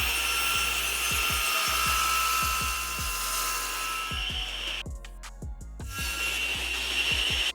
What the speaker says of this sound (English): Next up, we just go to the table saw just to square up our other two edges